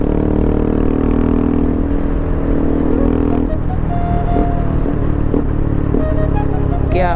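A Bajaj Pulsar RS200 motorcycle idles and revs at night, its raw exhaust droning loud and close with a steady throaty rumble, a pitch change midway and brief clattery blips toward the end.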